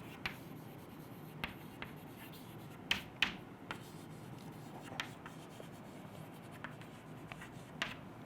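Chalk or marker on a board makes faint, sparse taps and short scratchy strokes, irregularly spaced, against a quiet room background.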